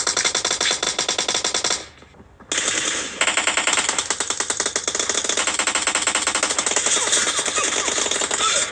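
Sustained rapid automatic gunfire from a mobile shooter game played on a Samsung Galaxy A53 5G, loud and continuous with a brief lull before the shooting resumes.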